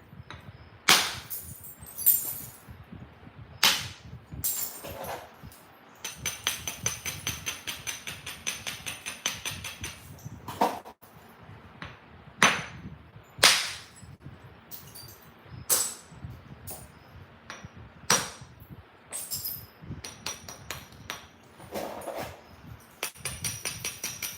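Flint knapping by a Gulf Coast knapper, with sharp irregular clicks and cracks as flakes are struck off the stone. The strikes come in uneven bursts over quiet rustling and handling noise, close and fairly loud.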